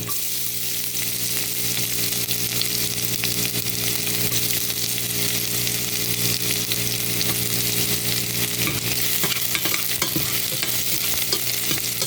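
Ginger and garlic sautéing in oil in a pan for chicken tinola, a steady loud sizzle and crackle that continues throughout with occasional stirring scrapes near the end.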